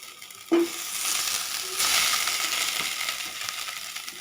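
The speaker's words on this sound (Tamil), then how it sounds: "வானலியில் கொஞ்சமாக வெண்ணெய் விட்டுக்கலாங்க" Butter hits a hot pan with a sudden sizzle that settles into a steady, close frying hiss.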